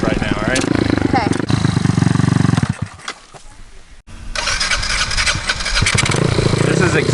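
Dirt bike engine revving loudly as a beginner rider pulls away using the clutch, a rough mid-pitched drone that drops off briefly, then surges back, with people talking over it.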